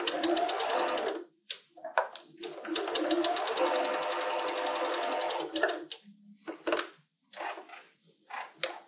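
A sewing machine stitches quilt pieces in long loud whirring bursts, stopping and restarting several times with brief gaps between runs.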